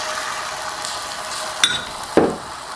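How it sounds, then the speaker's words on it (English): Beaten eggs hit a hot frying pan for an omelet with a sudden sizzle, preceded by a couple of sharp clinks against the pan, over a low steady hiss of cooking. "And then I just take my eggs, add into my pan."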